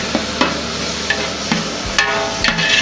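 Shallots being stirred as they fry in a large pot for chicken biryani cooked in bulk, with a steady sizzle broken by several sharp scrapes of the spoon against the metal, close and moderately loud.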